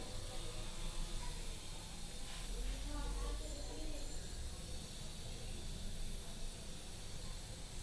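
Rice cooking in a pot on a home stove, a steady faint hiss of steam running unbroken throughout, with a low rumble underneath and no clear voices.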